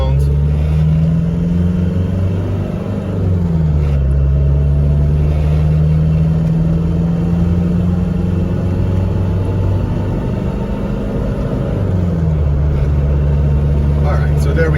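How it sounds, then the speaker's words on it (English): A 1990 Range Rover Classic accelerating on a road, heard from inside as a loud steady engine drone that rises in pitch, dips at a gear change, then climbs again over road rumble. "I'm going to accelerate normal, like I would normally drive if I was just driving around"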